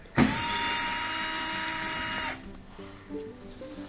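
A power screwdriver whirs steadily for about two seconds as it backs out a corner screw on a Miele washing machine, then cuts off, leaving faint handling clatter.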